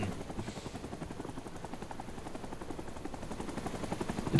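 Helicopter rotor thumping in a video game, a steady rapid chop at moderate level throughout with no one speaking.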